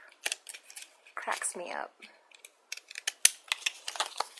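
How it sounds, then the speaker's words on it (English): Decorative-edge scissors cut through paper in a string of quick, close snips and crisp clicks, while a person talks and laughs briefly in the middle. "so both sides with our decorative scissors"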